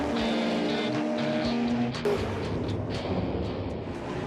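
GT race cars in the Australian GT Championship at the Clipsal 500 in Adelaide rolling off for the start, a loud dense blend of engines with a steady droning tone, then a sharp burst and a rougher, broader roar as they accelerate.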